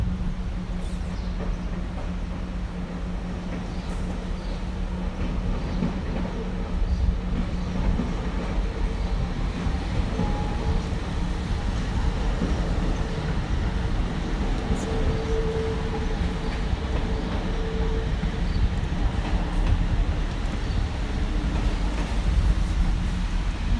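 A Régiolis AGC regional train rolling past close by at a station in rain and wind, a steady low rumble of wheels and engine with faint tonal hums, lasting the whole stretch.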